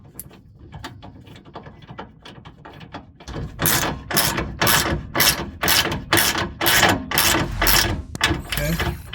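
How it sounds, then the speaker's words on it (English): Ratchet wrench clicking as a bolt is turned on the rear shock of a 2008 Acura MDX, close and loud, starting with scattered light clicks and then settling into a steady run of about a dozen sharp ratcheting strokes. "I'm kind of leveraging this while I'm turning the bolt at the same time."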